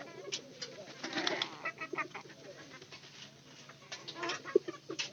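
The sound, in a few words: laying hens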